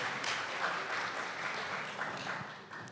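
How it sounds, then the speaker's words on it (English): Audience applause at a university symposium, a moderate, fairly distant patter of clapping that holds steady for a few seconds. "A round of applause for yourselves for being able to participate."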